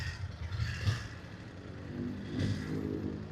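Motorcycle engine revving during a ride in traffic, a broadband roar that rises in two surges and then holds steady, close and fairly loud with no talk over it.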